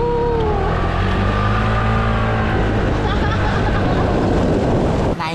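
A motorcycle ridden by two people on board runs with a loud, steady engine drone and buffeting wind across the whole stretch, with a rising engine tone early on; voices talk over it.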